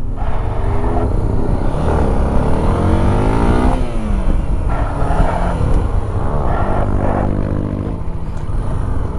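A Honda XRE 300 2020 motorcycle with ABS disabled revs hard during a wheelie, its engine note climbing and falling in repeated close, loud surges that fill the whole stretch.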